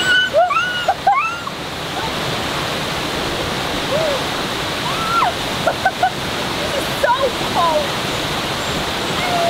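A river flowing steadily in Wales, a broad continuous wash of water noise close by, with bird calls chirping over it and faint voices in the background.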